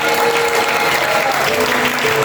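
Church congregation applauding during a Sunday worship service, steady dense clapping filling the room throughout, loud and continuous with no talk.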